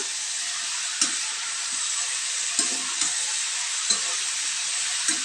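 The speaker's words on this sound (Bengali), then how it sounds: "এটা আমি 5 থেকে 10 মিনিট কষাবো।" Ridge gourd sautéing in a pan for a muri ghonto: a steady, bright sizzling hiss throughout, with a spatula tapping the pan roughly every second or so.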